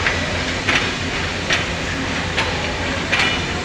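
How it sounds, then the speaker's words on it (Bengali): A passenger train runs past near a Bangladeshi airport railway station, a continuous rushing rumble with regular clickety-clack beats from the wheels, close and fairly loud, with no talk. "এই যে ট্রেনের পাশে ট্রেনটা যাইতেছে।"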